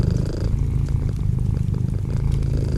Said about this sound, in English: here's 20 seconds of a kitten purring in front of the fire